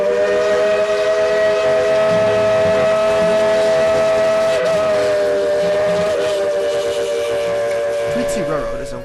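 A coal-fired steam locomotive at Tweetsie Railroad, a Wild West theme park, sounds a loud, sustained whistle with a steady chord-like tone lasting several seconds over rumbling train noise.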